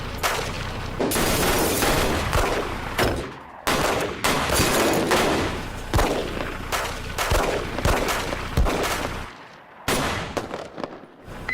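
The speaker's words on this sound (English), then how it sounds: "Shots fired. Shots in the building." Rapid, loud gunfire cracks echo inside a high school building, dense overlapping bursts with brief pauses, heard alone without talk.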